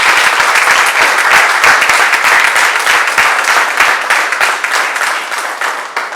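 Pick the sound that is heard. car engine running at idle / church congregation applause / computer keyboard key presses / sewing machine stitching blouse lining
church congregation applause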